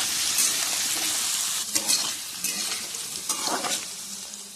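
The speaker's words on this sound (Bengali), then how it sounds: "সাদা তেল দিয়েই ভাজলাম।" Potatoes fry in white oil in a pan, giving a steady close sizzle and crackle broken by a few soft scraping stirs, continuous and fairly loud, with no voices.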